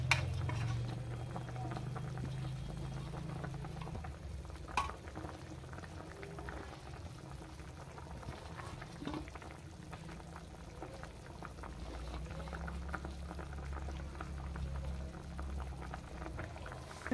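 A pot of gravy with small fish simmering on the stove, a soft continuous bubbling boil heard close by, with occasional light clinks and stirring taps against the pot.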